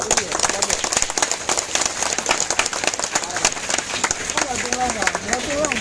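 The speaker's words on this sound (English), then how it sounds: "a big round of applause for our respected chief guest" An audience at a golden jubilee celebration applauds the respected chief guest, a busy spread of clapping with scattered voices and shouts mixed in throughout.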